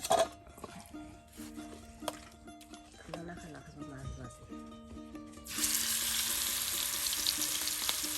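Spiced rui fish frying in a pan at a village home kitchen, first a low bubbling under talk, then a loud steady sizzle that bursts up and holds as the fish goes into hot oil.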